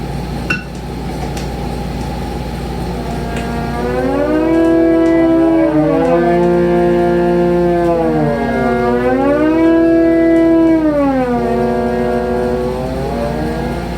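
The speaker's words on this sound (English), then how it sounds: "First, listen to the glissandi unmodified." Two unmodified tape-loop glissandi from an RCA Mark II synthesizer slide up and down together as loud, smooth tones, their curves crossing and shifting against each other over a steady low hum.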